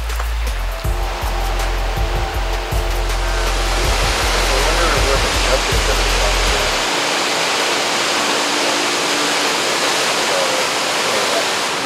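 A steady, full-bodied roar of a Maui waterfall fills the scene, with a few low wind buffets or handling thumps in the first half before it settles.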